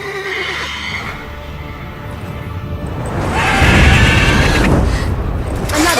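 A mare neighs loudly amid a dramatic scene, a shrill whinny that trails off, then a louder burst of crashing commotion and rumbling impact, with no speech over it.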